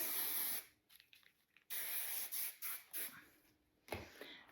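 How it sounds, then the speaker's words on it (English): Wig-safe hairspray hisses onto a short synthetic wig in a burst of close, sharp sprays: one longer spray, then several quick short pumps, and a final spray, with quiet gaps between. "this is just gonna work kind of like a wig safe hairspray"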